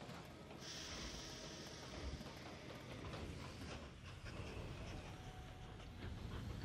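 Trains in the railway game Mashinky roll along the tracks as a faint, continuous rumble and clatter, with soft rhythmic clicks running through the steady noise.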